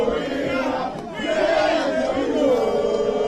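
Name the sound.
uncontrollable crowd at election constituency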